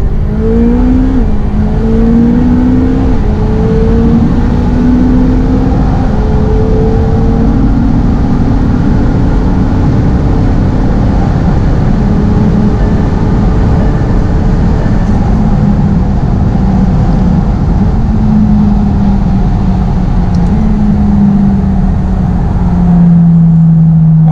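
A McLaren 720S launches hard with wheelspin and accelerates, its engine roaring loud and close. The pitch climbs through the gears in a long, continuous pull.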